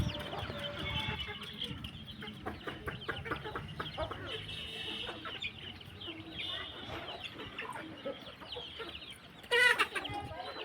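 Village chickens cluck at feeding time in the evening, a busy flock of repeated short clucks and calls close by, with faint rustling and a brief louder burst near the end.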